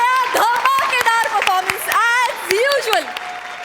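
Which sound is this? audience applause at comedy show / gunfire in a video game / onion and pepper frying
audience applause at comedy show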